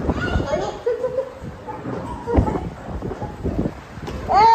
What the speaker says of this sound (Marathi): पहिला पाऊस आलेला आहे बघा. बघा वारं वाजून पाऊस पाडा झाला